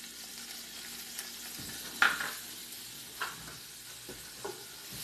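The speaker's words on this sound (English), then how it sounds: "And now we saute the capers." Capers sauté in a pan with butter, giving a quiet, steady sizzle. A few brief clinks and scrapes of a utensil against the pan cut through, with no talking.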